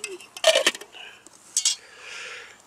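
A metal lid set onto a pot of fresh coffee outdoors by a campfire, a short cluster of close metallic clinks and clatters followed by a softer scrape and a later rattle, with no speech.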